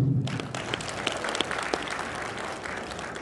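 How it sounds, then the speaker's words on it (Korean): Audience applause at a clan association's general meeting welcoming a National Assembly member to speak: steady, dense clapping from a sizable indoor crowd, moderately distant and even, lasting the whole stretch. "큰 박수로 환영해 주시기 바랍니다"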